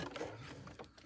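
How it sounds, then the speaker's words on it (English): A sewing machine runs continuously while stitching down the folded side of a tote strap, a close, steady mechanical whir that persists for the whole short stretch. "Now I'm going to sew down the folded side of the strap."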